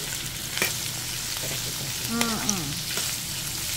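Pork innards and hearts sizzle in a pan, sautéed for Filipino dinuguan, a steady close frying hiss with a few stirring knocks and a brief faint tonal squeak partway through.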